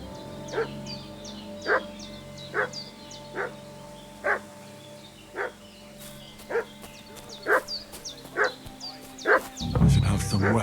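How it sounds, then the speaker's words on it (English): A dog in Kingdom Come: Deliverance 2 barks in a steady repeated rhythm, about a dozen sharp woofs at moderate distance over an ambient game soundscape, with a louder rumble arriving at the end. "What's that dog making such a fuss about?"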